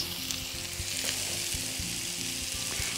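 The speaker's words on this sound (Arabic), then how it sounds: "هنعمل الثوم بتاعنا وننزل الكزبره والبقدونس مع الثوم." Garlic with fresh coriander and parsley hitting a hot pan, a continuous bright sizzle with soft rhythmic stirring knocks throughout, close and steady with no talking.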